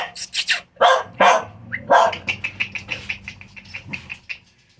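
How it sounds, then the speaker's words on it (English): A dog barks repeatedly and loudly nearby, a few sharp barks followed by a run of quicker, lighter yaps. "I'm sorry about the dog barks."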